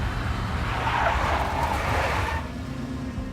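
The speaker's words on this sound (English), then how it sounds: "A big black Mercedes." A big black Mercedes drives past in the Max Payne video game, its engine and tire noise forming a loud, steady roar that drops off abruptly near the end.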